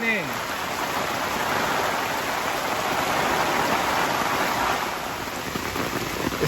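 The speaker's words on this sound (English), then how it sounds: "it is raining." Steady rain falls on a garden shade, a dense continuous hiss of drops hitting the surface, close and fairly loud throughout with no pauses.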